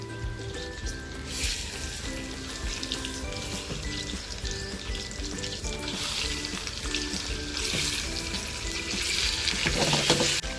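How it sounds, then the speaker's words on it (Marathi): Eggs fry in a little oil in a pan for egg masala, a continuous close sizzle that swells and grows louder toward the end, with light stirring clatter mixed in. "थोडंसं तेल टाकले आणि या तेलामध्ये ना थोडी अंडी फ्राय करून घेते"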